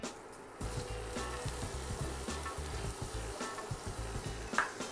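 Finely chopped onions hit hot oil with garam masala and start to fry in a sudden, close sizzle that stays steady, with soft stirring scrapes and low thumps running underneath.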